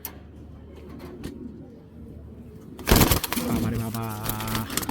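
A female racing pigeon coos softly after a stretch of low background rustle, its repeated throaty calls rising louder in the last couple of seconds, close by with faint ambient noise.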